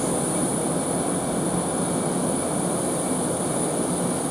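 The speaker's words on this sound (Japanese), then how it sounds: "これから羽田行きの、アナ機の離陸があります。" An ANA airliner (flight 378 to Haneda, registration JA56AN) at Nakashibetsu Airport, Hokkaido, before takeoff. Its engine gives a steady, loud, continuous roar with a high whine, with no speech.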